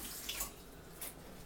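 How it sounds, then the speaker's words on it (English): Hands are washed under a running kitchen tap, heard as a faint, steady stream of water with a few soft splashes. "let me wash my hands."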